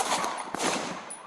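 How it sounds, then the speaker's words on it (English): A deputy and a suspect trade gunfire during an armed confrontation, heard as a dense, distant crackle of rapid shots with a couple of sharper reports cutting through steady noise. "The deputy then returns fire"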